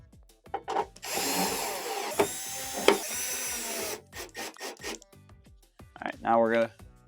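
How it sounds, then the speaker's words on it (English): A power drill drives screws around the perimeter of a Whirlpool Swash heater assembly in bursts of whirring, with clicks, handling noises and a brief spoken voice in between. "we're gonna go ahead and install our 5 1/4-inch screws around the perimeter"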